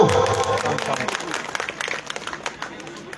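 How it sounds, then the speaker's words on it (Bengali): Applause from an audience at a live Bhawaiya folk music program, strongest at the start and thinning into scattered claps as it fades, with crowd murmur and a voice underneath. "নিত্যজিৎ বাবুর জন্য একটা হাততালি হোক। হাততালি হবে তো?"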